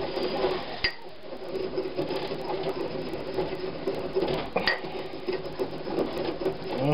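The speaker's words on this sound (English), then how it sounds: "Grind it all up into a nice little powder here." Pepper and spices are ground into powder, making a continuous gritty, rattling grind up close. A couple of sharp knocks cut through partway, and there is no talking.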